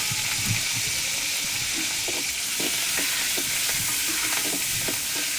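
Chilies, garlic and curry leaves fry in hot oil for a tempering, with a steady close sizzle and crackle broken by soft stirring scrapes, no voices.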